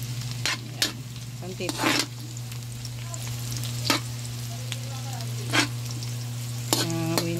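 Garlic frying in a pan gives a steady sizzle throughout, broken by several sharp stirring scrapes and clatters. A voice speaks briefly now and then.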